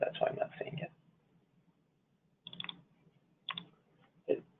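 A few short, faint bursts of computer keyboard typing follow a brief stretch of quiet voice.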